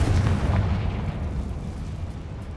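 A fire-curse explosion in the Hogwarts Legacy video game sounds as a deep, loud boom that rolls off into a fading rumble over a couple of seconds.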